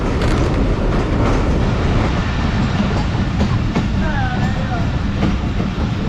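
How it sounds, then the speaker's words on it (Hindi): A train rolls over a railway bridge across the Ravi river near Shahdara Junction, a loud, steady, dense rumble of wheels on track with faint metallic squeals rising briefly near the end. "सिर्फ ट्रैक साउंड से पता चलता है कि हम ब्रिज से गुज़र रहे हैं"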